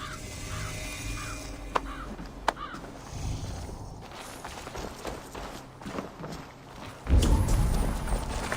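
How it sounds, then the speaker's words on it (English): A horse gallops in Assassin's Creed Valhalla, its hooves thudding in a quick, steady rhythm alongside scattered crow caws and ambient game sound, ending in a louder rush of movement. "Basim, Eivor, to horse!"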